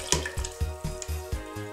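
Water poured into a half-full glass in a home kitchen while making strawberry juice, a series of close splashing, gurgling bursts with short pauses between pours.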